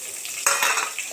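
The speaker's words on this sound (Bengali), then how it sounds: "লাল শাক ভাজা হচ্ছে" Red amaranth greens frying in hot oil with dry red chili and black cumin, a loud close sizzle that swells sharply as the pan is stirred, with brief utensil scrapes.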